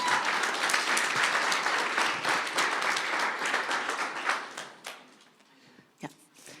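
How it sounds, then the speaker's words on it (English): An audience at an interactive performance gives a round of applause, dense clapping that thins out and fades into a few scattered final claps. "Can we give a round of applause for our angel?"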